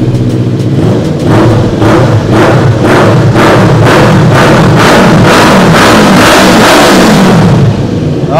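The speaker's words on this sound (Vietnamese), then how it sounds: "Đây là tiếng bô." A sport city motorcycle with an aftermarket exhaust revs loudly at close range, its note rising and falling in a steady series of throbbing pulses.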